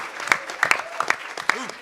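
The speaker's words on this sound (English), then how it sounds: "Give them a big round of applause." Conference audience clapping in a hall, a steady wash of applause with sharper individual claps standing out throughout.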